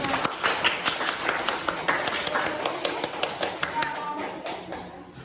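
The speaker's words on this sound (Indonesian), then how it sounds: "Tepuk tangan dulu." A school class claps their hands together, a quick run of sharp, fairly close claps that taps along rhythmically for several seconds, with children's voices around it.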